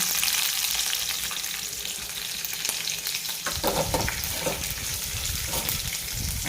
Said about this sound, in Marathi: कढीपत्त्याची पानं मिळतील आणि लसूण हे छान मिश्रण आपण आता एकदम मस्तपैकी परतून घेऊ